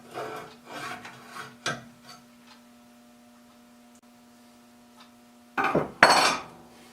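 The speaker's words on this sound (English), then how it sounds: "I can just slide the blade along and it automatically squares it up and grinds it at the bevel that I want it to." A plane blade slid along and ground at its bevel on a sharpening setup, the cap iron serving as a stop, gives rasping, scraping bursts near the start and a louder rough grind near the end, with a quiet stretch between.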